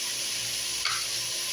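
Ground cumin frying and being stirred in a hot pan, a steady close sizzle with a brief louder stir around the middle; no talking.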